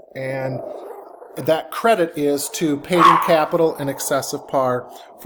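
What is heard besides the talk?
dog barking or growling at the door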